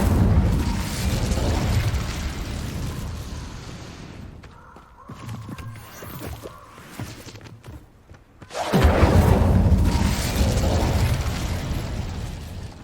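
An Incendio fire spell cast in Hogwarts Legacy roars out as a loud, sustained fiery blast, drops to a quieter stretch, then erupts again in a second long, rumbling burst.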